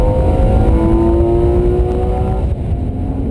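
A 2015 Porsche Boxster's 265-horsepower flat-six climbs through the revs with a rising, tonal engine note, loud and close, then drops off as it eases near the end.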